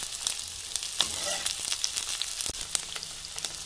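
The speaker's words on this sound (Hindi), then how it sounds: "प्याज और हरी मिर्ची को अच्छे से फ्राई कर लेंगे हम तेल के अंदर" Onion and green chili fry in hot oil with a busy crackling sizzle full of small pops and spits, close and steady, with no talking.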